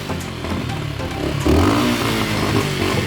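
A motorcycle engine revs up hard and loud close by, a steady throaty idle jumping into a strong rising roar midway that stays high until the end.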